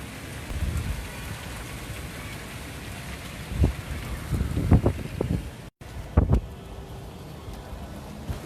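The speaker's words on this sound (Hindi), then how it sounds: "कराची में ज़बरदस्त बारिश थिए पई" Heavy rain pours steadily in Karachi, a dense hiss with gusty wind noise and a few sharp thumps and splashes standing out.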